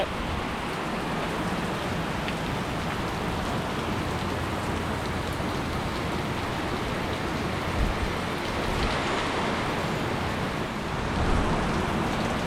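Heavy rain pours down steadily, a dense, loud hiss of drops hitting surfaces that holds constant throughout, with no talking.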